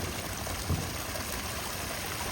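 A small garden waterfall, water spilling over rocks, giving a steady, even rush and trickle throughout with no voices.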